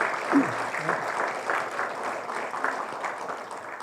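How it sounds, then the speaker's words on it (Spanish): A conference audience claps together in a sustained round of applause, moderately loud, with faint voices mixed in beneath the clapping. "Vamos a dar un aplauso general a todos nuestros invitados"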